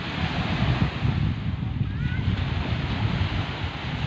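Steady ocean surf washes onto the beach at Panglao, Bohol, a continuous close roar of breaking waves with wind buffeting the microphone throughout.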